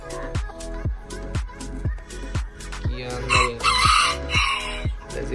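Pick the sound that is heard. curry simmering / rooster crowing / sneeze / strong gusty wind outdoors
rooster crowing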